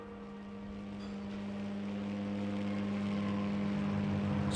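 A Battle of Britain-era propeller aircraft engine drones in a flight game, a steady low hum with strong harmonic tones that grows slowly louder. No talk is heard over it.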